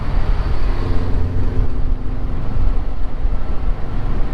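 A Toyota 86 fitted with new exhaust headers runs at partial throttle, giving a steady, loud, low-heavy exhaust drone with no pauses.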